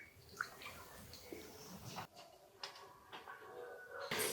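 Potatoes are washed by hand in water at home before being sliced into chips: soft sloshing and splashing with occasional knocks and clatter, quiet and close, no voice.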